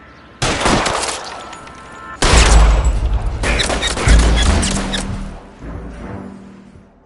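Loud gunshots crack out in an L.A. Noire shootout, a sharp opening shot followed by a heavier run of rapid reports, then fading echoes and rumble.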